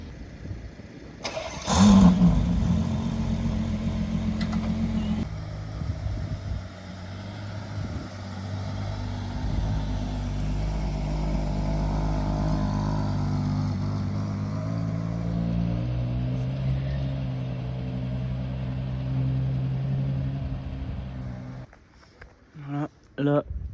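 Ferrari Purosangue SUV with an 812 Superfast engine starting with a sharp bark, then settling into a throaty idle with revs rising and falling, heard on a Deauville street as voices talk over it.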